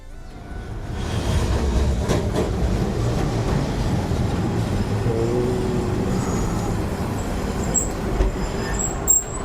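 An Osaka tram rolls past in Japan, a loud, steady rail rumble with rattling wheels that starts within the first second and holds for the rest of the clip.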